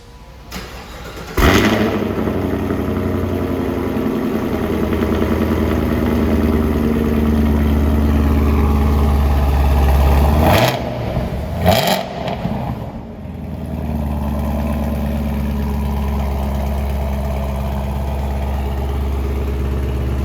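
A 6th Gen Camaro SS V8 fitted with Stainless Power headers and stock exhaust cranks and fires up, then settles into a deep, loud, steady idle, with a brief blip and pause midway before idling on alone.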